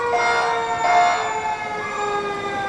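A Saline County Sheriff's Office DARE vehicle sounds its siren during a county fair parade, a loud continuous wail with steady tones filling the whole clip, close by amid outdoor crowd noise.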